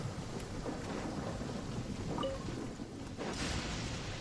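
Thunder rumbles over steady heavy rain in the video game Genshin Impact, a continuous downpour with a low rolling peal and a brief brighter crack near the end.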